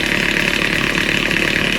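Aldi candy floss maker running, a steady loud mechanical whir and motor hum with a bright hissing buzz, continuous and close with no talking.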